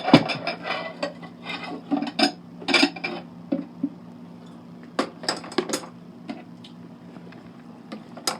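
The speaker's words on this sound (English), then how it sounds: "Let's come over here, grab this bowl." A bowl being picked up and handled in a home kitchen while making a salad for a baby Hermann's tortoise, a run of close ceramic clatters and knocks, busy at first and then sparser, with no talking.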